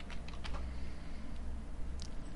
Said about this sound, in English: and use your arrow keys.